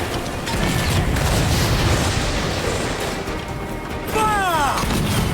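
Ship cannons fire in Assassin's Creed Black Flag in dense, rumbling booms that run together with wind and sea noise, and a sweeping whistle near the end.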